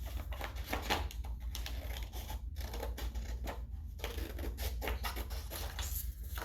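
Scissors snip through paper cutting out a ghost shape for a kids' puffy ghost craft, a close, steady run of crisp little cuts and rustles with no talking.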